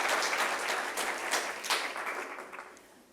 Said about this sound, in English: Sorry, applause again.